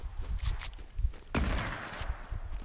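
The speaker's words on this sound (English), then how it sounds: "I'm getting shot at." Gunfire rattles in the video game Fortnite Reload, a quick cluster of sharp shots with a louder burst midway, plus faint footsteps, all fairly close and without talk.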